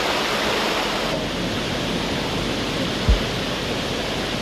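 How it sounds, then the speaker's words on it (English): A waterfall: a dense, steady broadband roar of falling water, loud and unbroken, with one brief low thump near the end and no talking. "Waterfall!"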